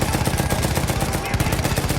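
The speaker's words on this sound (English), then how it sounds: "This is obviously the machine gun part, pretty graphic as you're mobbing down the Germans." Rapid, continuous machine gun fire from Battlefield 1's World War I first mission, a dense stream of closely spaced shots rattling steadily throughout with a brief lull near the middle.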